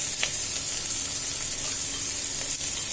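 Onions sautéing in a pan while cooking a sweet corn vegetable pulao, a steady close sizzle and hiss with faint stirring clicks, no voices.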